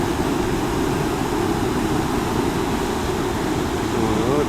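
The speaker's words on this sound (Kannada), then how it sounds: "ನೀರು ಹರಿತಾ ಇರೋದು ನೋಡಿ ವಾಟರ್ ಫ್ಲೋ ಸಾಕಾಗಿದೆ" Water rushes steadily over falls outside a temple near Surathkal, Mangaluru, producing a loud, unbroken broadband roar with no pauses.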